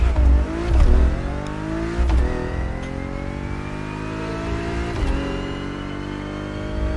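A weekend racing car accelerating hard around a racetrack, engine revving up through the gears with repeated rising sweeps and brief dips at shifts, loud and close throughout.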